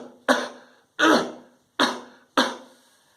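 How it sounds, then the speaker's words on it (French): Four forceful coughs come in an even rhythm about three-quarters of a second apart, each a sharp burst that fades quickly, close to the listener with silence between. "Il faut tousser."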